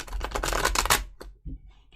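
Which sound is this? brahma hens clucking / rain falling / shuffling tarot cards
shuffling tarot cards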